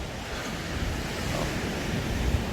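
Ocean surf at a resort beach in Cancun makes a steady, broad wash of breaking waves, with wind noise buffeting the microphone throughout and no voices.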